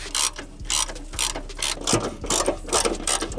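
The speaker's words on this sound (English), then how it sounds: "there's the one nut we have to remove there, and the other one is way up in here" A hand ratchet loosens a 10 millimeter nut during a car teardown, giving repeated rapid clicking bursts in a steady back-and-forth rhythm, loud and close with no voices.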